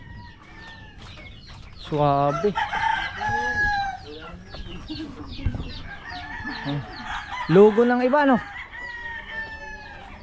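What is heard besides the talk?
chickens clucking and roosters crowing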